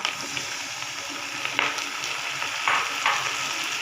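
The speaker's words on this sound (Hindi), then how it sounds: "ये सारे मसाले डाल के हमने अच्छी तरह मसाले को भून लेना है।" Ground spices with salt, red chilli, ajwain and tomato sizzle steadily as they are stirred and fried in a pan for an egg brain masala, a constant hiss with a few louder scrapes.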